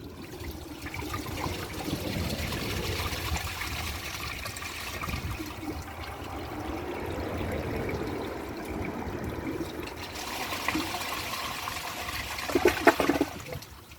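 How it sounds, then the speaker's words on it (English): A 2001 Capizzi toilet flushing up close, a sustained rush of water that swirls and drains, tapering into trickling refill with a few faint clunks near the end. "So let's give it a flush."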